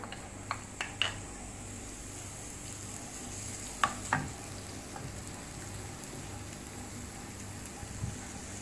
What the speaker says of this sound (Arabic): نديروا النقلات تاعنا فوق النار ونديروا فيها شويه زيت، كي يحملنا الزيت شويه نفرغوا فيها اول شيء البصل